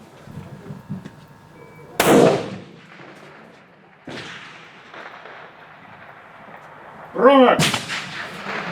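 Three loud rifle shots ring out at a long-range shooting competition, each a sharp crack followed by a rolling echo, spaced a few seconds apart, with one short shout between them.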